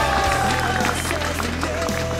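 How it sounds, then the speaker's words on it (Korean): Spectators at a StarCraft esports league final in Taiwan applaud a player, a crackling wash of clapping under a commentator's talk and sustained background tones. "박성균 선수에게 다시 한번 뜨거운 박수를 보내주시죠"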